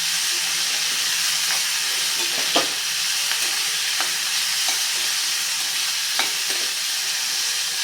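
Chopped onion sautés in a pan over a medium gas flame, giving a steady close sizzle and hiss. Occasional spatula scrapes and clicks from stirring come through at intervals, and no one speaks.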